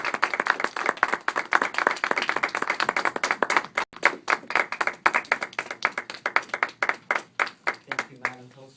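A Toastmasters club audience welcomes a first-time speaker with steady, brisk applause from many hands that continues for several seconds and thins out at the end.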